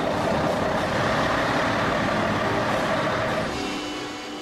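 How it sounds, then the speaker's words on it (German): Heavy construction tipper truck loaded with 31 tonnes of gravel, its diesel engine running loud and steady up close with a broad rumble, easing slightly toward the end, no talk. "Bevor der Kipper auf die Strecke geht, seine Ladung."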